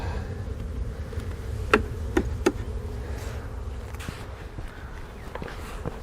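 Honeybees inside an open beehive give a steady, low buzzing drone close by, broken by a few sharp knocks or clicks near the middle. No one speaks.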